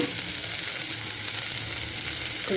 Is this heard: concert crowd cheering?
no